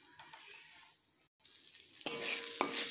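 A spice mixture for pointed gourd stuffing fries in a pan, a quiet stir at first, then a loud steady sizzle breaks out with sharp crackles as it is sautéed close by.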